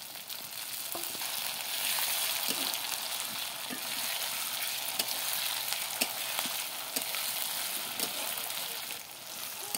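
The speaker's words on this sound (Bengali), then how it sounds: "এবারে দিয়ে দেবো কেটে রাখা টমেটোটা।" Chopped tomato frying with spice paste in a pan, a continuous close sizzle with intermittent stirring taps and scrapes, no voices.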